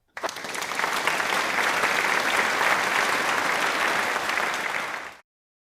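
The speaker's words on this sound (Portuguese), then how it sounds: "Aplausos." An audience at a session in Angola claps together in steady, dense applause for about five seconds, then it stops abruptly.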